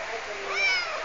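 A pet cat named Yesha meows once, a short rising mew close by, while a voice speaks over it.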